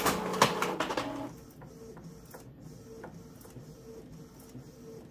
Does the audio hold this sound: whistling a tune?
no